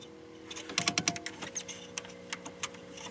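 Relays in a 2007-2013 Chevy Silverado truck that won't start click in a rapid, uneven burst of sharp ticks, then slow to scattered single clicks, fairly faint against a quiet background hum.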